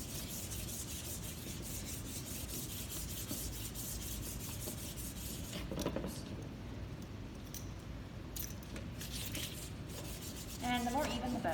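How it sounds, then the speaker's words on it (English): Chalk pastel rubbed back and forth over the back of a paper drawing, a steady, close, dry scratching that runs continuously throughout at an even level. "And then you want to just rub your pastel all over your surface of the back of your drawing."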